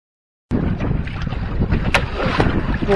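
Trimaran sailboat sailing to windward on Lake Erie, with rushing water and gusty wind noise buffeting the microphone close up, starting abruptly after a brief silence.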